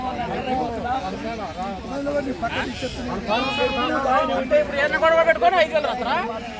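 Several sheep and lambs bleat repeatedly at a sheep market in Macherla, their wavering cries overlapping with steady background chatter and voices of traders.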